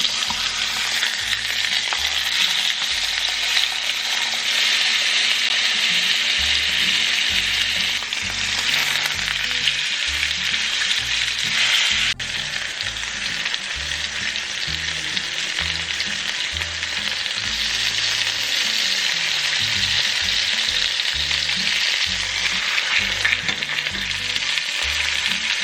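Pork chops searing in a hot pan, loud continuous crackling sizzle held close for a long stretch with brief shifts in intensity, no voices.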